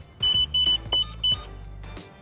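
A SYM Jet X 150 scooter's hazard lights sound a series of loud, close electronic beeps, four or five short tones in an uneven rhythm, with a relay ticking faintly underneath and no talking.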